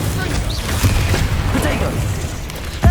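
An Incendio fire spell cast in the Hogwarts Legacy video game, a dense magical whoosh over constant game ambience, ending in a sharp, loud low burst near the end.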